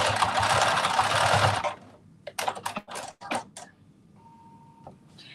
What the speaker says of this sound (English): And I'm going to do a little back stitch.